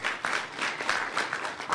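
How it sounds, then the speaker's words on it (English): Audience applause at a startup panel event, a short burst of many people clapping together in a room, dense and even, with no voices over it. "give a quick round of applause to Startup America"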